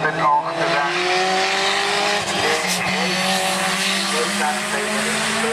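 A BMW E30 race car, start number 468, drives the Gurnigel hill climb; a loud, steady engine note holds throughout with shifting pitch and faint tire noise, close and continuous.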